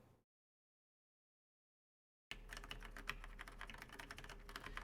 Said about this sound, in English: but you can hear my keyboard too